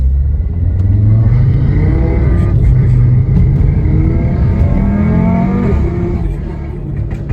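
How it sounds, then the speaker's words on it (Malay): Car being driven, with a loud, close engine rumble whose tone rises and falls as it accelerates, easing slightly in the final second. "Saya tiba-tiba nak bawa kereta I ni."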